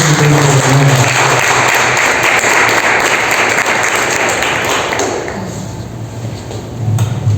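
Loud, close applause from a church congregation during a sermon, dense clapping that holds steady for about five seconds and then fades, with a brief swell near the end.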